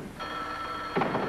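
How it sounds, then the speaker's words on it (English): An old-fashioned telephone bell rings in two short, loud bursts close by, with no speech. "Answer the phone, Willie."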